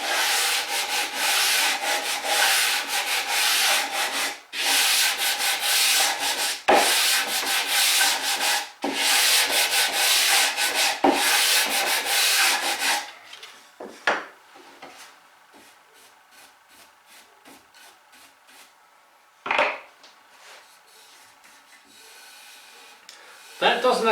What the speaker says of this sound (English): I've got a 180 grit paper here on my block and I'm just going to give it a few strokes.